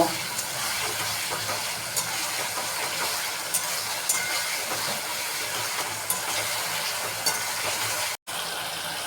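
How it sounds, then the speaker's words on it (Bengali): Fried potatoes with tomato and salt sizzling steadily in a pan, a continuous bright crackling hiss with occasional pops and faint stirring, close and even throughout with one brief dropout near the end. "আলু ভাজা হয়ে গেছে, তো এর মধ্যে আমি টমেটো আর লবণ আমি দিয়ে দিয়েছি।"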